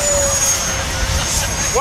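An RC model F/A-18 Hornet jet flies with a steady loud turbine whine and roar, flown without afterburner, a continuous close whistle with no talk.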